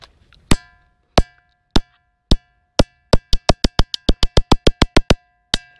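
A stone bell struck repeatedly with sharp ringing hits, slowly spaced at first, then a fast even run of strikes, ending with one final hit.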